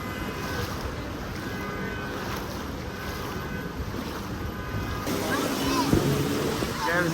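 Vehicles pushing through rain floodwater on a Dubai street give a steady rushing wash of water mixed with wind noise, louder splashing surging in near the end.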